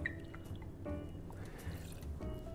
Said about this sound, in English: First up, we're gonna start with 20 mils of bourbon.